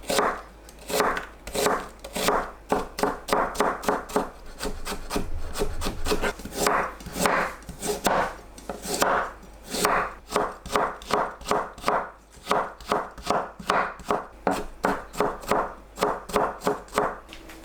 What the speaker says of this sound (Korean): 양파와 당근도 잘게 썰어주세요.